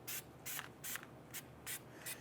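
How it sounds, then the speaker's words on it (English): Six short hissing bursts of anti-seize compound sprayed from an aerosol can onto a wheel hub of a 1999-2004 Jeep Grand Cherokee, evenly spaced with brief pauses between them, close and fairly quiet. "we're going to spray this down with some anti-seize compound"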